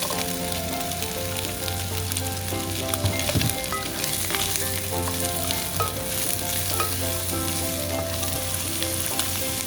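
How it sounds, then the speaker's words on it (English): Pork belly browns over high heat in an induction pan, a dense continuous sizzle with occasional stirring clicks and scrapes and no voices. "We just want to brown the pork belly."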